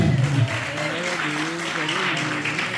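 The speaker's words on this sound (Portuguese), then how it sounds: "de uma salva de palmas bem linda para o eterno" Applause from a church congregation during a Portuguese-language thanksgiving service in Braga, Portugal, steady and full for about three seconds, mixed with voices and sung or sustained tones underneath.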